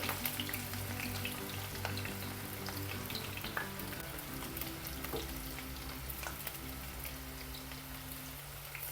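Bitter gourd pieces sizzle steadily in hot oil, a dense, even crackle that holds at a constant level throughout, with a low hum underneath and no voices.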